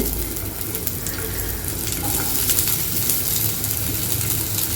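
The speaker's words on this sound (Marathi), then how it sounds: "सोनेरी रंग येईपर्यंत कांदा टोमॅटो भाजून घेऊया" Onions and tomatoes frying in a pan for Pune-style misal give a steady, close sizzle with faint scraping of stirring, unbroken and with no voices.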